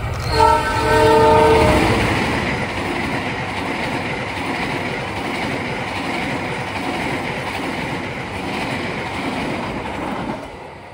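Argo Dwipangga passenger train rushing past at high speed, opening with a loud horn blast followed by a steady roar and rapid wheel clatter close by that continues for about ten seconds.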